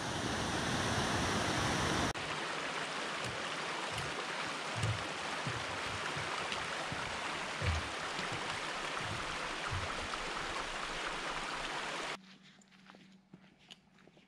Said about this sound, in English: Quite the climb to get up, but a spectacular waterfall.